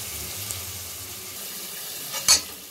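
Ginger and garlic sautéing in a pan with salt for egg pasta, making a constant close sizzle, with a single metallic clink near the end.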